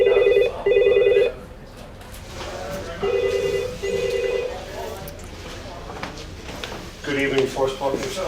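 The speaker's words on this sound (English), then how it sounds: "no one in here to answer the phone" A telephone rings in repeated bursts at an unattended hotel reception, the rings sounding twice in quick succession, then pausing, then again, while a person talks nearby over a busy room background.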